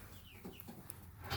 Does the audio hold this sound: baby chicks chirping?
yes